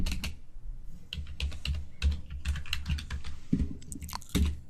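Close, quick clicking of keys on a computer keyboard in uneven bursts of typing with short pauses, entering SQL code, with no talking over it.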